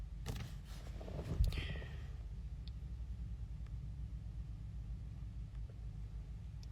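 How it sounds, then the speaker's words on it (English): A car passes close by in a quiet setting, a soft low rumble that swells briefly near the start and then fades into faint steady background hum. "Right as the car drives in front of me"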